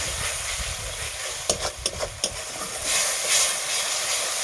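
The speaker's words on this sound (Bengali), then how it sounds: "এটাও আমি ভালোভাবে একটু নাড়াচাড়া করে নেব।" Spice paste for a jackfruit, potato and small rohu fish curry stirred as it fries in a pan, a steady broad sizzle with a few sharp scraping clicks of the spoon partway through, then a louder hiss near the end.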